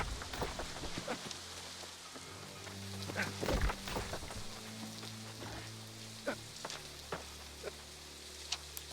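Rain in the online game New World patters steadily on surfaces as soft scattered drops, with a low rumbling bed and a few sharper taps, fairly quiet and without voices.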